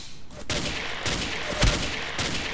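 Gunfire in a shooter video game: several sharp shots, with a louder close crack near the middle, over steady game noise and background sound.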